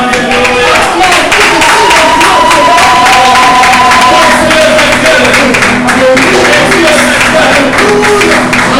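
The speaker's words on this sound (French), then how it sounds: "acclame le Seigneur" A church congregation during a worship service acclaims the Lord, a loud, steady crowd of cheering and clapping with raised voices and sung tones running throughout.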